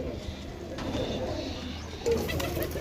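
Pigeons offered for sale coo softly and repeatedly at close range over low background murmur, with a slightly louder coo near the end.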